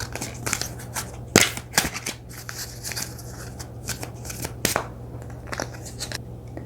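Angel oracle cards are shuffled by hand at close range, with quick papery riffles and soft flicks over a steady low background hum.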